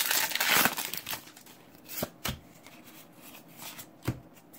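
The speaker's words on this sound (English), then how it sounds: "I'm going to move my cards around here." Pokemon trading cards are moved around and shuffled by hand, with soft riffling, sliding and crinkly snaps, a few sharper flicks standing out, close and quiet.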